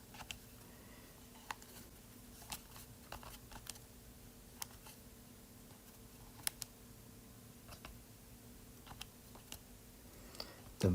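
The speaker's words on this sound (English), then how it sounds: "Use a calculator." Calculator keys are pressed one at a time, making faint, sharp clicks at an uneven pace over a quiet hum.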